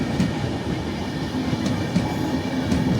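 A passenger train with AC coaches rolls past nearby with a steady rumble and rhythmic clickety-clack of wheels over rail joints, loud and continuous.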